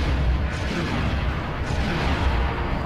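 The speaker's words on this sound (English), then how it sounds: "I need to use my ion guns." Ion cannons fire in the Star Wars Rogue Squadron 3 Rebel Strike video game, a dense, continuous roar of booming blasts that stays loud and rumbling throughout, with no talking.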